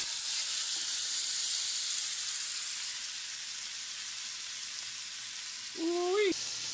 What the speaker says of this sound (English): So we got our oil on. It's nice and hot.